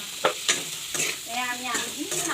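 Potatoes and onion fry in a salted pan, with sharp spoon scrapes and clinks over a steady close sizzle.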